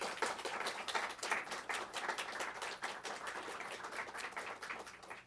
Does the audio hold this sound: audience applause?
yes